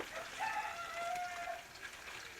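Chickens at a Bangladeshi village home, a few close, faint clucks and drawn-out hen calls over a quiet background, with no talk.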